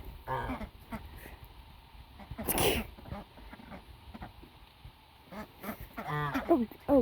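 Ducks among a group of water birds give several short nasal quacks, one loud burst mid-way and more near the end, mixed with a person talking nearby.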